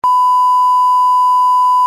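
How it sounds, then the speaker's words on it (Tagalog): A steady, loud, pure censor beep sounds alone for nearly two seconds at one unchanging pitch, starting and stopping abruptly. "I'll beep"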